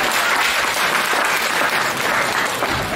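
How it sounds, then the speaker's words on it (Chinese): An audience at a crosstalk comedy show in a Beijing theatre applauds throughout, a dense, steady wash of clapping from many hands that fills the room without pause. "感谢大家的掌声鼓励。"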